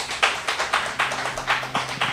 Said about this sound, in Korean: 박수로 한번 환영해 주시기 바랍니다